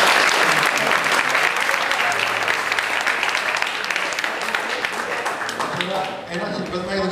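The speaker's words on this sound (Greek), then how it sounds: "Δώστε τους ένα χειροκρότημα" An audience applauds guitar students at their school recital, steady dense clapping filling the room at close range, holding strong throughout and thinning slightly toward the end while a few voices rise underneath.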